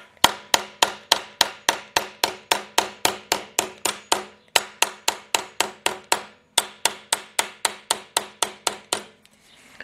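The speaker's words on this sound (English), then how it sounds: "you could take the cross peen and set that out" A cross peen hammer taps sheet metal on a Willys CJ2A body, striking about thirty times in a steady, even rhythm of sharp metallic clinks with short pauses, close and clear.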